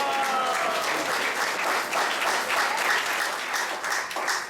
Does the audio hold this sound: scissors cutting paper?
no